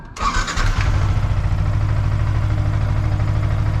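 A Yamaha R15M 2023 motorcycle engine cranks briefly and catches, then settles into a steady, close, even idle that runs on alone.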